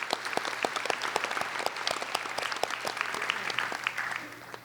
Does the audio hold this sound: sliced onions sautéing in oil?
no